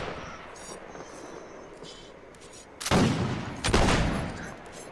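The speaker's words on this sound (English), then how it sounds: "These volleys are brutal." Musket volleys ring out in Mount & Blade: Warband's Napoleonic Wars battle, two loud ragged bursts of massed fire in the second half, after a quieter stretch of distant battlefield noise with scattered shots.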